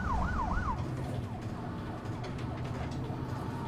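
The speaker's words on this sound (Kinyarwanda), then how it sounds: "Hakuno ambulance tayari." An ambulance siren wails in a dubbed action film, a close, loud rising-and-falling tone repeating over the rumble of a moving vehicle.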